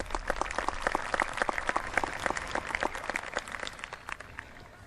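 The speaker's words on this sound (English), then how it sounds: "that surely deserves a round of applause" A round of applause from the audience at a high school commencement ceremony, a dense, even patter of many hands clapping for about five seconds at moderate distance, easing slightly toward the end.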